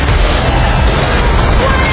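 Loud, dense blasts of gunfire with heavy booming from a Hollywood action movie, filling the whole stretch without pause, like a cinematic firefight.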